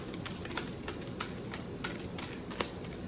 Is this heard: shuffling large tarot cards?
yes